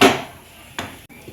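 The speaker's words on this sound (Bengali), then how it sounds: "এবার ঢেকে দিচ্ছি।" A lid is set on a cooking pot of jackfruit curry with a close, sharp metallic clank, followed by a softer second knock a moment later.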